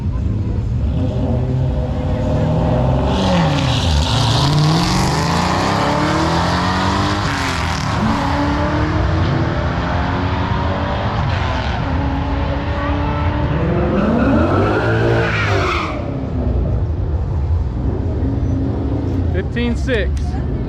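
A Chevrolet Impala SS launching down a drag strip after a burnout: loud engine roar rising through repeated gear changes, revs climbing and dropping in sweeping arcs, with tire noise and people talking over it.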